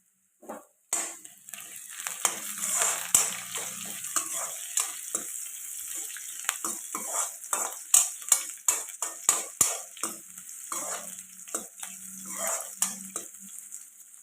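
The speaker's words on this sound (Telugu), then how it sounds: "కొద్దిగా ఫ్రై అవ్వాలండి ఇవి ఇలా ఫ్రై అవుతుంది కదండి" Curry leaves fry in a pan for a drumstick dal soup. A sharp sizzle starts suddenly, then settles into crackling pops and spatters, with a few metal utensil clinks against the pan, close by and without talk.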